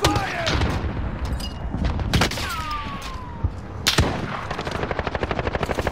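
Gunfire in a video game firefight, with loud bursts and a rapid train of shots near the end, heavy booms throughout and a few sharp, close blasts standing out.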